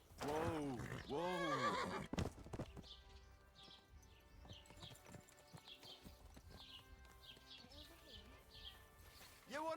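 A horse in the video game Kingdom Come Deliverance 2 lets out two loud, close whinnies, then hooves clip-clop steadily under faint birdsong, with a final brief neigh at the end.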